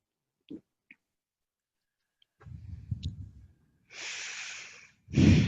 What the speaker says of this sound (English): taking 3 deep breaths